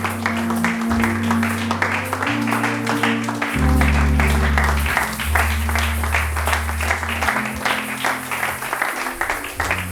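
A church congregation claps and applauds steadily over ten seconds, with sustained organ or keyboard chords underneath throughout.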